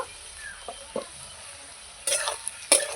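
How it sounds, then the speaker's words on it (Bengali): Potatoes and onions fry in a pan with a soft sizzle, interrupted by two louder scraping stirs of a spatula near the end. "আলু পেঁয়াজ আমি ভালো করে ভেজে নিয়েছি"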